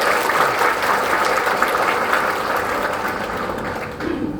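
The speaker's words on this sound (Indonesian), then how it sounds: "Tepuk tangan untuk pabrik ini." Loud, dense applause from a large crowd gathered at a factory religious gathering, continuous clapping for several seconds that gradually eases off toward the end.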